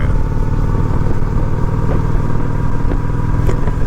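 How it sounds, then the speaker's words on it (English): Honda Shadow 750 ACE motorcycle engine rumbling steadily at low speed, a soft continuous purr with a few faint bumps, close and loud throughout. "I love the sound of this motorcycle. Love the way the engine purrs and you got that soft rumble."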